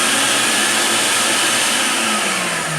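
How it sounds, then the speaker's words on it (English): A dust collector runs in a woodworking shop, a loud, steady, broadband roaring whoosh that fills the whole moment close by, with a faint falling tonal whine underneath and no talking. "I've got my dust collector on."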